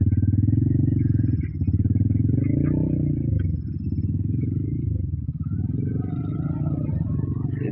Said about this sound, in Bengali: এই যে আবার আরেক বাইকার আসতেছে।